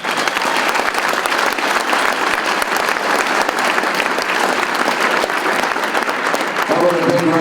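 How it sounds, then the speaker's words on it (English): Loud, sustained applause from an audience at a Toronto Blue Jays Hot Stove event in Fort McMurray, steady dense clapping filling the whole stretch with crowd noise mixed in. "How about a big round of applause for Kevin Pillar and Chris Colabell."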